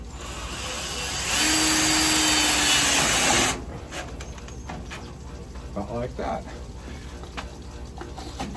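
A power driver runs self-tapping screws with washers into a thin metal sign on a new trailer, one steady loud whirring burst lasting about two seconds, followed by quieter handling noises and light clatter.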